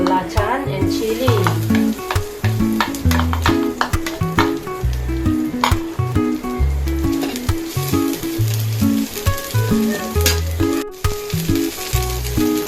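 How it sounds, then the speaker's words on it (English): Garlic, anchovies, belacan and chili stir fried in a pan, a loud steady sizzle with repeated scraping and clanking of the spatula as the ingredients are tossed, no talking. "I'm going to stir fry the garlic, anchovies, belacan and chili"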